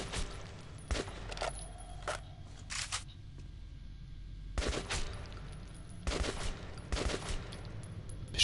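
Bursts of automatic gunfire in the video game Metro 2033 Redux, set in a cursed tunnel: several loud, separate volleys of rapid shots with short quiet gaps between them and no talking.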